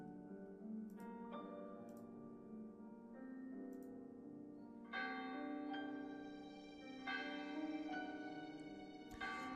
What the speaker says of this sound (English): The bells of the church.